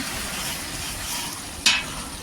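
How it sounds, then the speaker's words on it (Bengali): Potatoes frying in a pan give a steady, close sizzling hiss throughout, with one brief sharp clatter near the end. "আলু ভাজা হয়ে গেছে, রেডি।"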